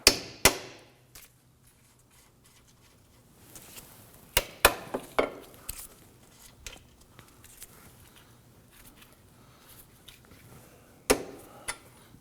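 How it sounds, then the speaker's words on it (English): Hammer tapping a bolt free on a 2008-2011 Ford Focus front suspension during CV axle replacement: a handful of sharp metallic taps, scattered and irregular, with a pair early on, a cluster near the middle and another late, close and fairly quiet. "I'm going to go ahead and tap this gently to get that bolt worked out."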